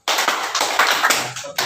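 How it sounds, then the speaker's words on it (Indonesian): Group of teachers clapping along in a counted classroom clap routine, a dense burst of hand claps from a nearby group lasting over a second with a brief dip near the end. "Tepuk satu, tepuk dua. Tepuk tiga, tepuk empat."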